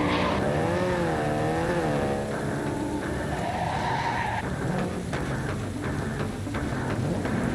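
A car in Cyberpunk 2077 driving hard with a steady loud engine roar and long wavering tire squeals and skids, continuous throughout, no speech.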